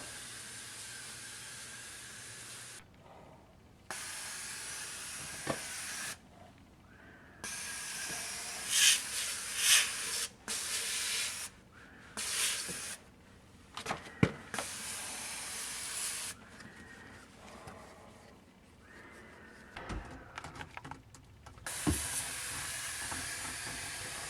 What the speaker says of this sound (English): I went and sprayed every cavity as well as I could, and I tried to spray it in all directions